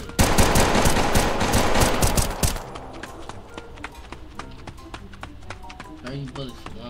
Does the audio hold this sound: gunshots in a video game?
yes